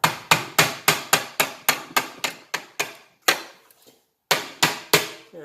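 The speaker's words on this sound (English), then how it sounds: "give it a little persuasion with this rubber hammer." A rubber hammer knocking a part into an old Honda water pump engine: a quick run of about a dozen sharp, close blows in steady rhythm, a short pause, then three more strikes.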